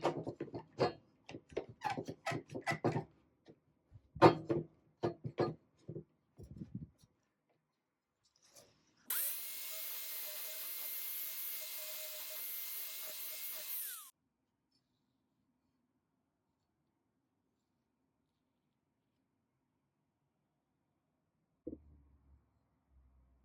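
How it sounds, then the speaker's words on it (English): An angle grinder works along the contoured edge of a lawn mower blade, giving a loud, steady high-pitched grind of about five seconds. Clicks and clatter of handling come before it, then near silence, then a brief knock at the end. "to navigate the contour of the blade with the angle grinder"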